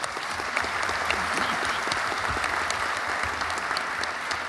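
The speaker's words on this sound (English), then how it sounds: "A round of applause." Sustained audience applause at a Columbus Celebration gala speech, even and full from start to finish, a dense wash of many hands clapping with no talking heard.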